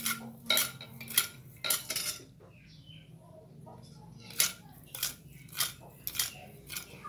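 Sweet and sour sauce is mixed in a bowl with a utensil, giving a series of sharp clinks and taps against the dish at an irregular pace, close by, with quiet gaps between.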